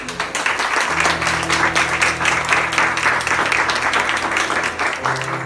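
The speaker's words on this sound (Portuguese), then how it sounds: "Vamos aplaudir, gente." Lively audience applause at a church faith-school gathering, sustained, full clapping from a crowd that holds steady throughout with a low hum of voices beneath it.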